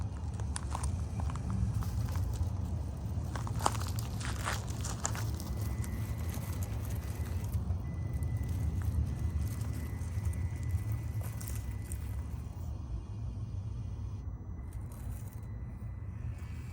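A Traxxas TRX4M RC crawler drives over gravel beside a house, making quiet, uneven crunching and scraping over a low continuous hum, with irregular pops of stones.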